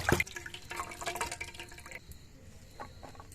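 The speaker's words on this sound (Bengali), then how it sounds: "এক ফালি বাঁধাকপি নিয়েছি, বেশি নিইনি। ভালো করে ধুয়ে নেব।" A slice of cabbage is rinsed under running water in a home kitchen, with quiet splashing and dripping that fade toward the end, a few soft clinks and handling noises, and no talk.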